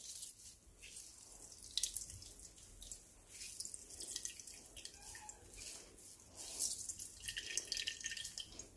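Water drips and trickles from chopped onions being squeezed in cloth, faint splashy drops and short bursts coming irregularly, close but quiet.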